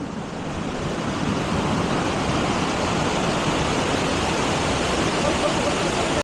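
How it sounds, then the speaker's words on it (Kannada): Abbe Falls waterfall in Agumbe, a steady, loud broadband roar of rushing water continuing unbroken and close throughout, with wind buffeting the microphone. "ಇಲ್ಲ ನಮ್ಗೆ ಅಬ್ಬೆ ಫಾಲ್ಸ್ ಯಾವ ತರ ಇದೆ ನೋಡಿ"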